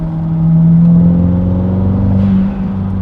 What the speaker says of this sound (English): the blow-off valve sounds good